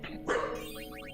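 A small dog lets out a single short bark, close and fairly faint, amid background game sound.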